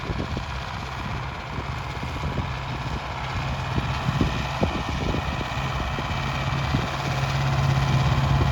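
A YuMZ tractor engine labors steadily while struggling to pull an AG-2.4 implement through soil, a continuous low diesel drone that grows slightly louder toward the end, with no voices.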